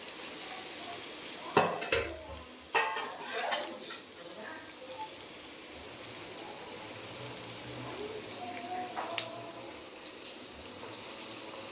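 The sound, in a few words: onions sautéing in a pan for fish roast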